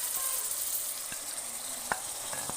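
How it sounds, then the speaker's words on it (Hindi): Spiced chicken pieces sizzle steadily in a pan for a tinde gosht curry, with a continuous bright hiss and a few sharp clicks of stirring, the last near the end. "तो इसको अच्छी तरह भूनना है"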